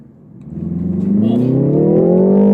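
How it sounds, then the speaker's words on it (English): A 2019 BMW 330i G20 engine switched into sport mode, revs rising steadily and loudly with a strengthening harmonic whine over about two and a half seconds, close and alone. "Let's put it into sport now. Immediately the revs blipped."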